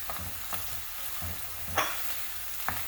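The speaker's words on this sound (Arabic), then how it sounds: "ودرك نحط حتى الزيتون نقليه مليح" Olives fry with onion in a pan, heard as a close steady sizzle broken by rhythmic scrapes and clacks of a utensil stirring, with one brighter clatter near the end.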